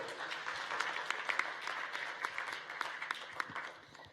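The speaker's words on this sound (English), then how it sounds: "Let's give a big round of applause to Laura King." A conference audience at a horse racing event applauds steadily, fairly faint and distant with scattered sharper claps, fading slightly at the end; no talk over it.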